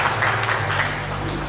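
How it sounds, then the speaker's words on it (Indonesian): A brief burst of audience applause at a stage event, steady clapping lasting under two seconds with a low hum beneath it. "Tepuk tangan untuk para 9 crown yang lain Bapak Ibu."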